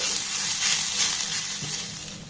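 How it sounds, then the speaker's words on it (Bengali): Grated coconut frying in a pan on a low gas flame, a soft continuous sizzle with light stirring, close and even throughout. "গ্যাসের ফ্লেমটাকে লো রেখে প্রথমে এই নারকেল কুড়ানোটাকে একটু নাড়াচাড়া করে ভেজে নেব।"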